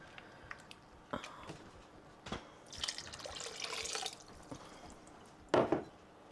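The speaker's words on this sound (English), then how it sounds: "And then we're gonna add in a cup of water too." Water poured from a cup into a pot of chili on the stove, a soft splashing burst in a quiet kitchen with a few faint clicks and knocks before and after.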